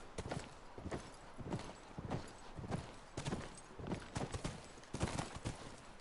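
A horse's hooves clip-clop at a walking pace in The Last of Us Part II, with a regular, fairly close rhythm of soft thuds repeating throughout.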